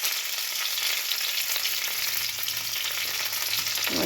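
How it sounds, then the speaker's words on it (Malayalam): Shallots, mustard seeds and dried chillies fry in hot oil with a steady, dense sizzle that runs loud and close the whole time, with no voices. "നമ്മുടെ ഈ ചെറിയ ഉള്ളി ഒന്ന് ചുമന്ന് വരുന്നിടം വരെ ഇതൊന്ന് വറുത്തെടുക്കണം"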